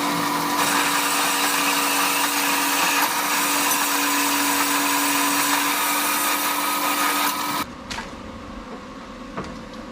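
Steady, loud whine of a power saw cutting metal tubing for a bike rack, running continuously for several seconds before dropping to a quieter, rougher tone near the end.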